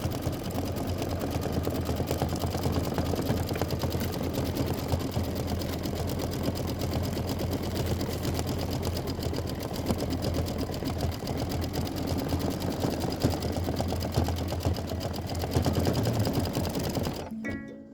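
An embroidery machine stitches a snowman quilt block in a steady, continuous mechanical whir with a fast needle rhythm, close and even throughout, stopping abruptly right at the end.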